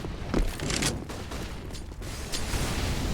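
Counter-Strike gunfire on the Nuke map comes as a dense, loud fusillade of rapid shots. Mechanical clatter runs through it steadily from start to finish.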